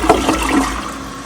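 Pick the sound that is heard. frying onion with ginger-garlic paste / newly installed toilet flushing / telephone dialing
newly installed toilet flushing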